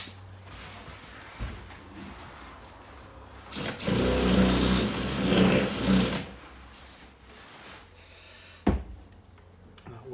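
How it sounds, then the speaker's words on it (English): A power drill widens a hole in the frame of a 1978 Avondale Heron caravan during rewiring for new towing electrics. The drill runs for about two seconds, sounds close and loud, and quieter handling noises come before and after it. "Let's just drill it a hole a tiny bit bigger."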